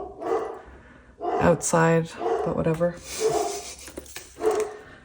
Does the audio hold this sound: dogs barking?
yes